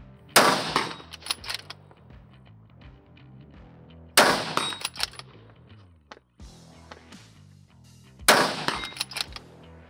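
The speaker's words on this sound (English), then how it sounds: "we'll start shooting for a bit, send about 10 rounds down range" Three loud, sharp rifle shots fired down range at an outdoor shooting setup, spaced about four seconds apart, each followed by a brief echo and some handling clatter between rounds.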